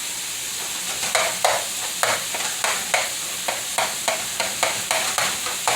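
Ground beef and vegetables fry in a pan, a bright sizzle broken by regular scraping stirs that come about twice a second, close and fairly loud.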